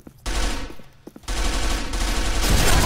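Automatic M4A1 fire in the online shooter Arctic Combat comes in loud, rapid bursts: a short volley, a brief pause, then a longer sustained stream of shots.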